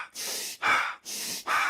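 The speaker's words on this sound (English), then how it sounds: "What we know is that if I hyperventilate" A person demonstrates hyperventilation with four rapid, forceful breaths close to the microphone, alternating inhales and exhales in a quick, even rhythm, each audible breath rushing loudly through the mouth.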